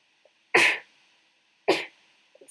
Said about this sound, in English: Sneezing all the time.